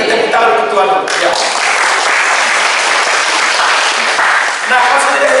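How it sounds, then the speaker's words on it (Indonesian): An audience at a church leadership seminar bursts into loud, sustained applause, dense clapping that stays close and full for several seconds. "Kita tepuk tangan untuk Tuhan."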